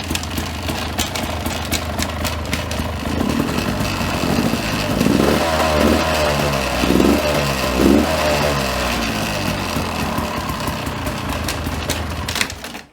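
A gas-powered dirt bike accelerates in gear, its engine revving up in a loud, close, rising drone with pulsing rhythm across several seconds before easing off, with no talking.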